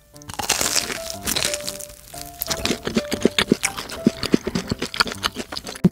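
Crisp crunching bites into a crispy sweet potato cheese ball, a rapid series of sharp cracks growing denser and louder, close to the ear with no talk.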